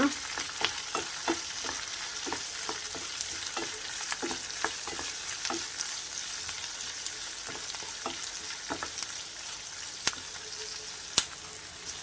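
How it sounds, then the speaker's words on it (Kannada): Onion, garlic, Byadagi chillies and green chillies fry together over a low flame, a steady close sizzle broken by regular scraping stirs of a spatula against the pan. "ಇವಿಷ್ಟನ್ನು ಜೊತೆಯಾಗಿಯೇ ಸಣ್ಣ ಉರಿಯಲ್ಲಿ ಫ್ರೈ ಮಾಡಿಕೊಳ್ಳುವ."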